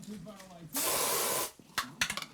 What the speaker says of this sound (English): White spray.